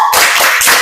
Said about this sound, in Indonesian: Semuanya tepuk PPK.